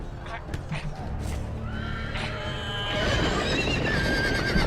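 Game horse neighing and whinnying in a Telltale Game of Thrones scene, with clip-clopping hooves and game music, fairly loud throughout and growing busier after the midpoint.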